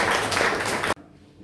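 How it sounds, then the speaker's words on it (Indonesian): Classroom applause for a classmate: a short burst of dense clapping from students, fairly loud, that cuts off abruptly after under a second, leaving quiet room tone. "tepuk tangan untuk teman."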